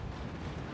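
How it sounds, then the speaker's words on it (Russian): A warship's gun in World of Warships fires a practice shot into the water, a heavy low boom that rumbles on as a dense roar for the whole brief moment. "Учебный такой выстрел в воду."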